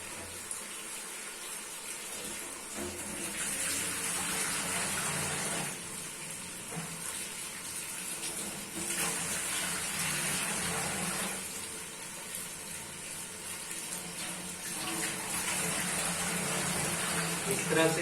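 Running tap water rinsing raw onion rings that were cut and salted to remove bitterness for a salad, a steady broad splashing and gushing that swells and eases over about eighteen seconds at moderate level, with faint background sounds.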